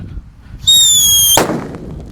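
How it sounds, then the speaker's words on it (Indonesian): A shrill whistling tone rises briefly, then a single sharp, loud bang from a King Thunder paper firecracker cuts in close by, followed by a fading crackle. "Sudah menyala mercon King Thunder."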